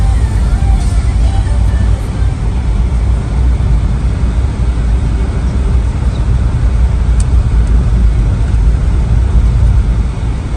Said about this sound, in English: This is the first time I'm driving on the road with you.